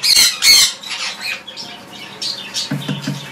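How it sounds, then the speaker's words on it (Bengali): Blue Indian ringneck parrots of Holland bloodline, a breeding pair on a farm, let out several loud, harsh squawks in quick succession, with fainter chatter and rustling between them. "এখানে এক জোড়া ব্রিডিং পেয়ার ব্লু কালারের ইন্ডিয়ান রিংনেক আছে, হল্যান্ড ব্লাডের"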